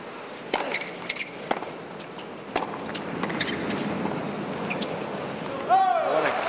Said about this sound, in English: Gust that blew through on that point.